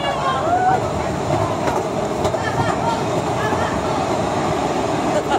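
A small yellow tourist train rumbles as it starts moving into a cave, a steady dense rolling noise with faint squeals throughout.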